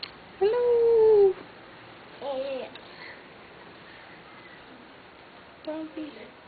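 A dog whimpers in short high, whining bursts, one longer cry followed by two briefer ones, close by with quiet gaps between.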